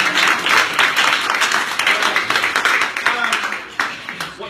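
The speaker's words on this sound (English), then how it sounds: "another round of applause" An audience at a business training event gives another round of applause, dense and steady clapping that tapers off, with a voice faintly underneath.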